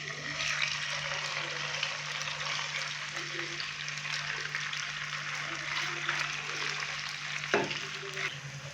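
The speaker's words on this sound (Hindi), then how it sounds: "ऑयल हल्का सा गर्म हो चुका है, अभी हम इसके अंदर चिकन डालेंगे" Chicken frying in lightly heated cooking oil in a pan: a steady, even sizzle and crackle running throughout, with faint stirring clatter and a brief knock near the end.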